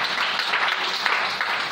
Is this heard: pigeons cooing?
no